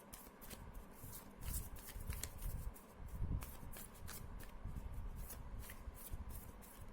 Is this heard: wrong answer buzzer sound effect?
no